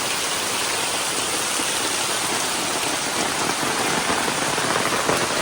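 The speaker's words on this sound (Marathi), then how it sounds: "नाश्ता झाला आणि जोरात पाऊस चालू झालाय" Heavy rain pours steadily, a dense, continuous hiss of downpour close by with no voices.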